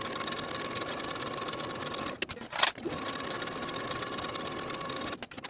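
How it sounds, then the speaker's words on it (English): A sewing machine runs steadily at close range, stitching the side seams of a crop top with a quarter-inch seam allowance, its whirring drone broken by a brief pause and a clunk midway, then resuming. "And then I'll sew those side seams with a 1/4 inch seam allowance."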